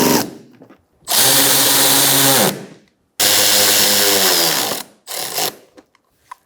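A power tool whirs in two long bursts, then a shorter one, tightening fasteners during a washer reservoir replacement on a 2013-2022 Buick Encore, with brief quiet pauses between runs.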